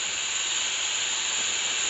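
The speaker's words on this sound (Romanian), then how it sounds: "îl pun în tigaia grill la prăjit" Chicken breast seasoned with salt, pepper, oregano and rosemary fries in a grill pan over high heat, giving a steady, even sizzling hiss with no voices.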